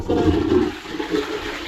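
A toilet flushes close by in a public restroom with a urinal, giving a continuous loud rush of swirling water with no voices.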